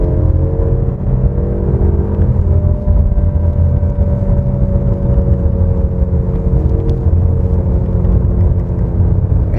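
A Mercedes-Benz E-Class or BMW 5 Series engine revs at high RPM in a heavy, low, steady drone heard from inside the cabin, its pitch climbing slightly.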